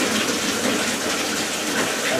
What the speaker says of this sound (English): You got to pre-fill it with water.